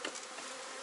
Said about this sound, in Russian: Пчелки готовятся к зиме.